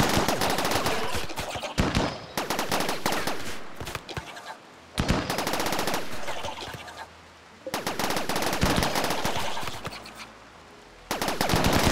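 Energy weapons firing rapid bursts during a battle in the video game RimWorld, dense rattling volleys like automatic gunfire, loud and continuous with brief pauses between bursts.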